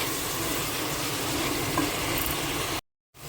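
Chopped onions sizzle and fry in a pan, a loud continuous crackle with occasional stirring, heard close up before cutting off abruptly near the end.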